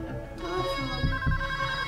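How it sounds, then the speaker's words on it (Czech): Telephone ringing inside the video game PayDay 2, a steady electronic ring with sustained tonal bursts running through the whole moment, moderately loud amid game ambience and low background thumps. "Telefon."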